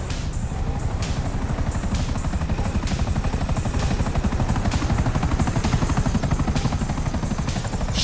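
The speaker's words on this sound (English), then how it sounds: "Another chopper!" Steady, loud helicopter rotor thumping with a whining engine drone in Grand Theft Auto V, continuous throughout and close by.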